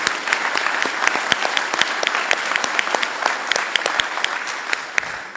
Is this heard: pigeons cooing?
no